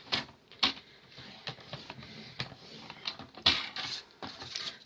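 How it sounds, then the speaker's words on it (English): Paper is scored with the lighter scoring blade of a Stampin' Trimmer, giving close, dry scratchy strokes and soft clicks in an uneven series of quick passes. "This is the scoring blade, the lighter color blade on the Stampin' Trimmer versus this darker one."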